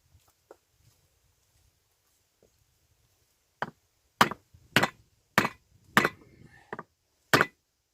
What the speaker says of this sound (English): we're going to take our block of hardwood and our big hammer.